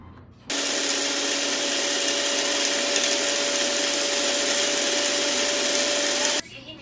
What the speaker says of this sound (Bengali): 1 চামচ পোস্তদানা এবং 2 টেবিল চামচ বাদাম এবং 3 টেবিল চামচ আমরা টক দই দিয়ে এই পুরোটা ব্লেন্ড করে ফেলব।